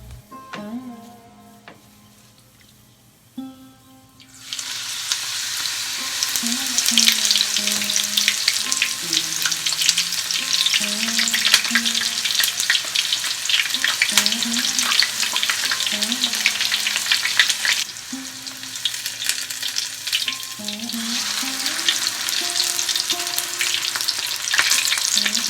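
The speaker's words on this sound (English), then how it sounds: "Heat oil in a pan over medium heat. Add ingredients and fry on both sides." Tempura pieces fry in a shallow layer of oil in a pan over medium heat, giving a loud, steady crackling sizzle. It starts after a few quiet seconds, dips briefly midway, then carries on with soft utensil taps and no talk.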